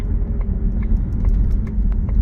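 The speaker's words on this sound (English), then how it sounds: "That supercharger whine just a little bit" A supercharged 2006 Jaguar XKR convertible's engine hums steadily with a low rumble and a faint high supercharger whine riding on top, continuous and fairly loud throughout.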